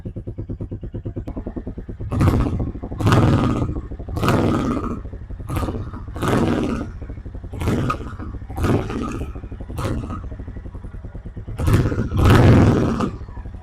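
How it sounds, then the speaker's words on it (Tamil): Stock exhaust of a 2024 Royal Enfield Classic 350 Reborn, heard from a short distance as a steady thumping idle with repeated loud blips of the throttle rising and falling, no talking over it. "பார்த்துருப்பீங்க நம்ம ராயல் என்ஃபீல்ட் கிளாசிக் 350 ரீபார்னோட அந்த ஸ்டாக் எக்ஸாஸ்ட் நோட்டு"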